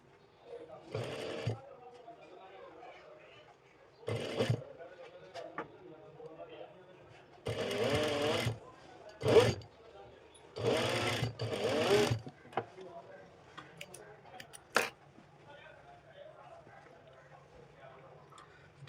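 A sewing machine stitches fabric for a neck design in several short bursts of whirring, separated by pauses, while someone talks quietly between runs.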